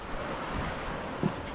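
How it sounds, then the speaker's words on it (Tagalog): Steady rushing roar of big surf and wind on the West Philippine Sea, fairly loud and continuous, with a brief low thump near the end. "Malaki ang alon."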